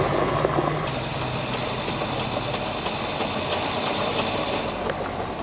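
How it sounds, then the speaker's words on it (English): A train rumbles past on a line near Australia's longest straight road, a loud steady roar with faint clicking throughout, and no voices. "It's another train."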